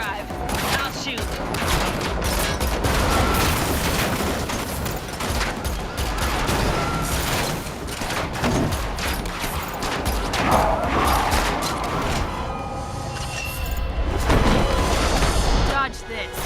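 Continuous gunfire and booms from a virtual reality shooting game fill the whole stretch, loud and dense, with bursts and crashes layered over talk and game voices throughout.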